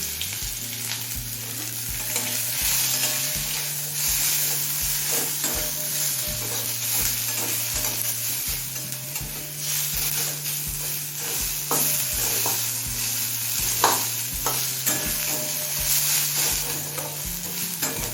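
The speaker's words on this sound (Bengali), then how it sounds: "জিরে তেজপাতা শুকনো লঙ্কাটা লাল করে ভেজে নিয়েছি এবার একটা মাঝের সাইজের কুচুনো পেঁয়াজ দিয়ে দিচ্ছি" A medium onion, chopped, fries in oil with cumin, bay leaf and dried red chilli, giving a loud, continuous close sizzle with repeated stirring scrapes over a low steady hum.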